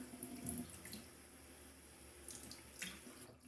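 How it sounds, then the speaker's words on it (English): Water trickles from a tap onto a Shapton whetstone while a straight razor is honed, a soft continuous splashing with brief brighter bursts, close but faint. "put a little more water here"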